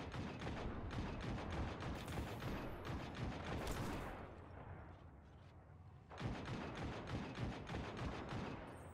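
Dense, rapid gunfire in the video game Destiny 2 rattles on continuously, drops away into a quieter hiss for about two seconds, then resumes just as heavily.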